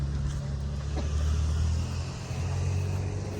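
A car rolls past on a residential street lined with large houses, giving a low, steady engine rumble that stays moderately close and even throughout, with no voices over it.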